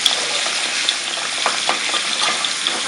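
Meatballs, onion and pepper sizzle in a hot pan as garlic goes in, a steady crackling fry with a few brief stirring scrapes, close and continuous with no talking.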